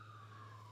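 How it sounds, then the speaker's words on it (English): An emergency vehicle siren sounds outside, heard faintly as a steady high wailing tone over a low background hum. "Ah, another siren."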